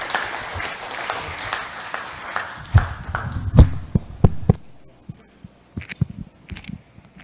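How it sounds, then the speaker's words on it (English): Audience applause at a clergy convention keynote, clapping that swells and then thins out into scattered individual claps, with a few louder thumps near the microphone. "Let us give him a round of applause."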